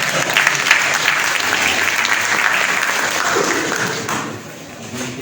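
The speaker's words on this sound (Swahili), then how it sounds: "Sisi tunakaribisha na watu wa kanisa kubwa kanisa tunapiga makofi" A large church congregation applauds continuously in a dense, even wash of clapping that fills the space and tapers slightly near the end.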